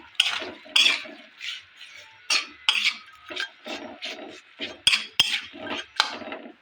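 A utensil stirs and scrapes jam ingredients in a metal pot, an elephant-apple and jaggery mix, making close, irregular clinks and rasping strokes, each a short burst with brief pauses between.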